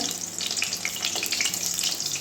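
Stuffed spiny gourd (kakrol) fries in a pan, giving a steady close sizzle with crackling, popping bursts and no talk over it.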